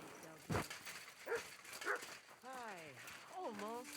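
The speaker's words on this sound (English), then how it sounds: "You silly doggy." A dog barks and whines in Kingdom Come: Deliverance II, a few short yelps and whimpering tones spread across the moment, close and moderately loud with game ambience around them.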